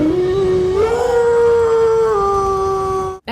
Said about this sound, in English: I got to see Hannibal Lecter as a werewolf